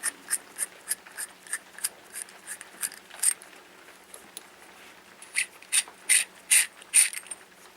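Threaded metal parts of a Prophet Vapor mod being unscrewed by hand: a close series of quick, dry ratcheting clicks in regular bursts, a pause, then louder clicks near the end, with no talking.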